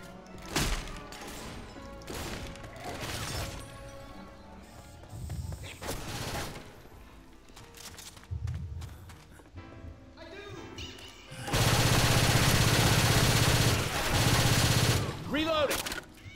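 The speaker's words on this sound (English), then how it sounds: "This is a machine gun." Gunfire and chaotic action in Left 4 Dead 2, with scattered shots early on and a sustained loud burst of machine gun fire in the second half, set among game effects.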